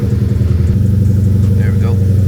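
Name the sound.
tuned car engine cold-starting on E85 fuel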